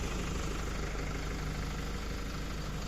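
A farm tractor engine idles with a steady, even low rumble, constant in level throughout, close to the microphone and with no talk.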